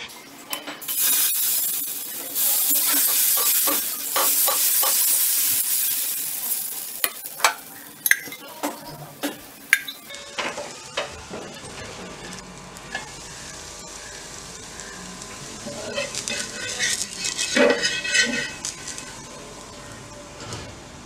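Pirandai dosa batter poured onto a hot pan sizzles steadily, with a loud hiss in the first half that settles into quieter frying. Scattered scrapes and clicks of a ladle or spatula break through as the batter is spread and turned.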